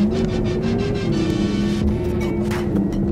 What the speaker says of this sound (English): when you see the car and hear this noise, you definitely know there is a Taycan